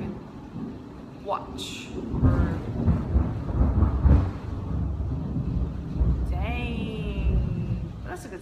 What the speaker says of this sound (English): Dang, that's a good storm, right?